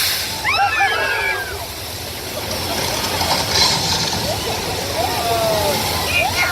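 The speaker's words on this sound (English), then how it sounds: "Our flood is a special effect." At Universal Studios Hollywood, a special-effect flash flood of recycled water roars continuously, mixed with a rumbling, clattering tour ride noise and a few squeaks and high chirps.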